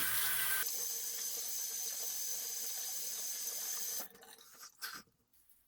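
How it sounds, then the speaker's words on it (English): Water pours from a tap into a sink while a face is rinsed, a steady close hiss that runs for about four seconds and then cuts off, followed by a few faint splashes and drips. "Let me rinse my face and relather."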